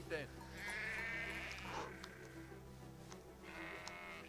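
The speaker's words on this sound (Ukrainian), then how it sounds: "Вівці. Вівці. Бе." Sheep in the video game Valiant Hearts bleat twice, a longer wavering cry followed by a shorter one after a pause, heard quietly within the game's soundscape.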